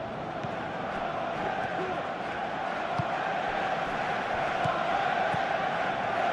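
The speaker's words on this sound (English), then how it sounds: "Crowd appreciates good football all round there." A steady, distant stadium crowd murmurs and cheers through a football match in PES 2017, an even roar that stays constant beneath a commentator's voice.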